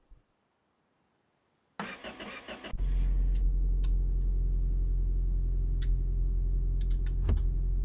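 A car engine cranks for about a second after a short silence, then catches and settles into a loud, steady idle close by, with a few faint clicks over the running engine.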